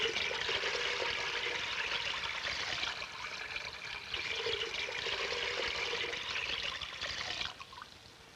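Water is poured steadily from pitchers into a container, a continuous close trickle and splash that stops near the end.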